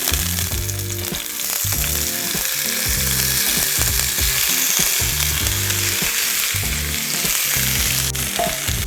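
Shrimp sizzle loudly in hot coconut oil in a pan for coconut lime shrimp, a steady close frying hiss with periodic stirring scrapes and no talking.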